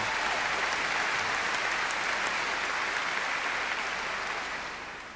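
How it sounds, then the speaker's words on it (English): An audience at a 1993 piano competition awards presentation breaks into sustained loud applause and cheering, a dense wash of clapping that holds steady and then begins to fade at the end. "A huge cheer from the audience here."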